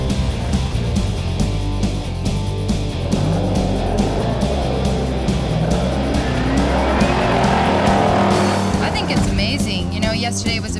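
Loud trucks run at an autocross event at a C10 truck gathering, with engines droning and revving close by, tires squealing and skidding, and a vehicle passing near the end.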